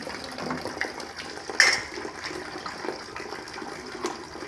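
Water gushes and splashes continuously into a fish tank being refilled during a water change, a close, steady pouring with a brief louder splash partway through.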